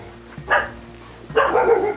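Dogs at an animal shelter bark in two short bursts, loud and close, with a yelping, slightly strained quality and a low hum between them; no talking.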